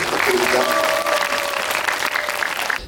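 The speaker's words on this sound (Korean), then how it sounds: "박수 부탁드립니다." A studio audience claps warmly for an actor at a Korean talk event, a dense sustained round of applause with murmured voices and a brief tonal sound underneath.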